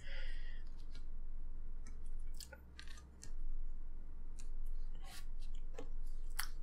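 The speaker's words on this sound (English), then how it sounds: "as I cut, I like to roll the cable as I'm applying pressure" A blade cuts through the outer jacket of an antenna cable as the cable is rolled under pressure. It sounds as a series of close, crisp snipping clicks and short scrapes, with brief quiet gaps between them.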